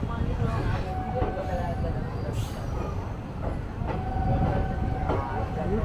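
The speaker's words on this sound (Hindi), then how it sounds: "प्लेटफॉर्म नंबर 4 पे आई है हमारी ट्रेन।" A Bhagalpur–Jaynagar Intercity Express train pulls into the platform at Bhagalpur Junction, with a steady loud rolling rumble, wheel clatter and brief squeals, and people talking over it.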